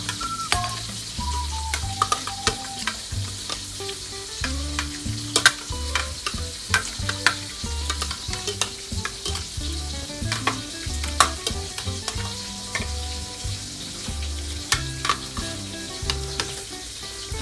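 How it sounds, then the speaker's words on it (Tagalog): Tilapia tails frying in a pan, with a steady sizzle and crackle broken by sharp pops and the scrape of stirring, close up, without talking. "kasalukuyan naman kami nagpiprito ng buntot ng tilapia para sa baon namin bukas"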